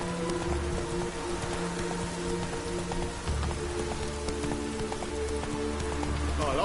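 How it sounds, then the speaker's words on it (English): Steady rain pours down in the Witcher 3 video game, a continuous close hiss of drops layered over sustained tonal music, with a faint rhythmic clopping underneath. "I like rain."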